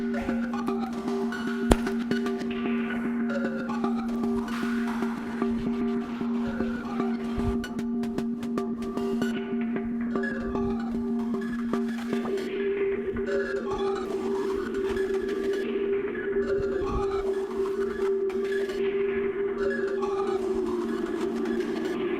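A synthesizer soundscape set with a combination of knobs hums as a sustained drone, while repeating sweeping, clicky textures ripple over it. The pitch shifts partway through, and it plays alone at moderate volume.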